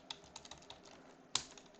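Computer keyboard typing while Python code for a Pygame game is entered: a handful of light, uneven key clicks with one sharper, louder keystroke near the end, close and quiet with no talk.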